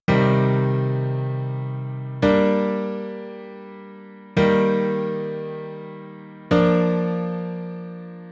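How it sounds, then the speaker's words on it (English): Four sustained synth chords in a simple progression, each struck at once and left to ring and slowly decay before the next, evenly spaced and played alone with no voices. "I prepared a simple chord progression for you, and it sounds like this."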